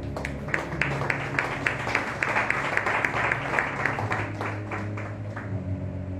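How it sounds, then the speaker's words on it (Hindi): A church congregation claps in a steady, rhythmic beat, many hands striking together in regular pulses that carry on evenly throughout. "आप भी तालियां बजाएं"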